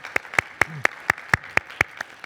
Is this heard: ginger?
no